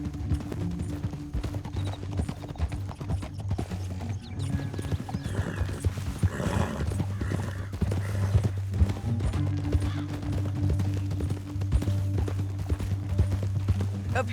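Steady clip-clop of horse hooves at a walking pace over a low droning background, continuous and moderately loud, in the video game Red Dead Redemption 2.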